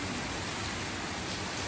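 Steady, even hiss of rain falling on a rainy day, a dense broadband wash with no distinct drops, heard alone without talk.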